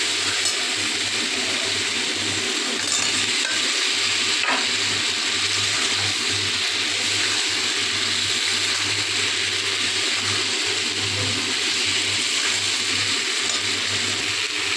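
Boiled potatoes frying in a cooked-down spice masala for aloo dum, a continuous close sizzle with a low steady hum underneath and occasional stirring scrapes, no talking.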